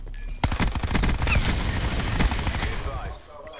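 Rapid bursts of video game gunfire crackle in dense, overlapping volleys, loud and close, with a voice talking briefly over the shots.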